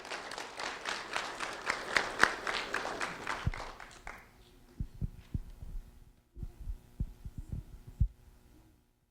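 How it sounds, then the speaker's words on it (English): An audience at a sheriff's office recognition event claps for a fifth-grade student for about four seconds, then the clapping stops and a few soft thumps and handling noises follow. "a round of applause for Alinary Marquez"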